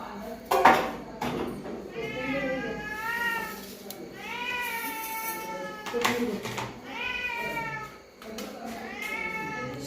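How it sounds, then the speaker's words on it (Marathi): A hungry cat tied up out back meows repeatedly in long, wavering cries near the cooking area of a thali food stall in Kolhapur, with dishes and cutlery clinking and people talking nearby. "मांजर रडाला कारण त्याला भूक लागली आहे"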